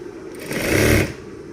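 A sewing machine stitching fabric, its motor running up to a steady close whir for about half a second before winding down, with no voices alongside.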